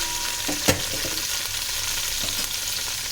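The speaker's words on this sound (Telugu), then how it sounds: "ఇప్పుడు ఉల్లిగడ్డ, పచ్చిమిర్చి వేసుకోవాలి." Chopped onion and green chillies fry in hot oil for a fish curry, a steady bright sizzle close by with a quick metallic clink or two from a spoon early on.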